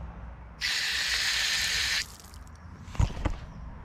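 A public drinking water tap in a park runs in a steady rushing stream for about a second and a half, then shuts off, followed by a couple of dull knocks.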